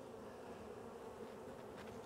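Honeybees buzzing during a spring hive inspection, a steady, faint, even drone with no voices.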